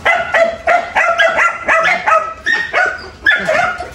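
Two three-and-a-half-month-old Belgian Malinois puppies bark and whimper in rapid, repeated high-pitched yips, loud and close, at a dog kennel.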